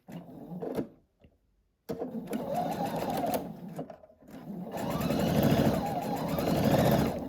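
A sewing machine stitches pieced quilt block fabric, running in short bursts that pause, then settles into a longer steady whir up close; no one talks over it.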